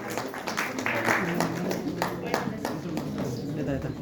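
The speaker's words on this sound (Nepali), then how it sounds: "जोडदार तालीले सम्मानित व्यक्तित्वहरूलाई सम्मान गरेर" Applause from an audience honoring awardees at the annual general assembly of the South Asian Astrology Federation, steady clapping throughout with a person speaking over it.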